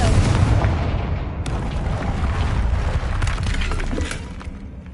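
A Confringo fire-spell explosion in the video game Hogwarts Legacy, a loud broad blast that rumbles on with crackling debris and a second burst midway, heard alone without talk.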